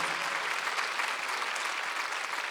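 A church congregation at a Sunday worship service claps together, a soft, even wash of applause heard from some distance, steady throughout and fairly faint.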